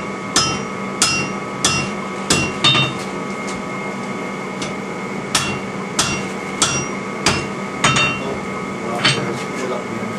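A hammer strikes metal at an anvil, sharp ringing blows at an uneven steady pace of roughly one per second, close and loud, with brief pauses between strikes.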